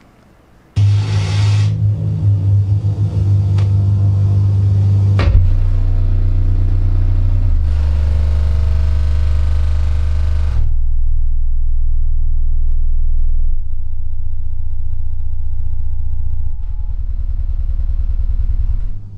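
A Funk Audio LFE24 subwoofer plays loud, deep sustained bass tones that shift in pitch across several long held sections, booming and strong before cutting off at the end, with no voices.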